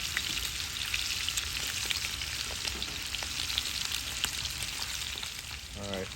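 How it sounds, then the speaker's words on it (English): Butter, oil, garlic and rosemary sizzle and crackle steadily in a cast iron pan, a continuous close frying hiss with scattered pops and a brief stir near the end. "We're going to let these flavor the butter and the oil with the rosemary and the garlic"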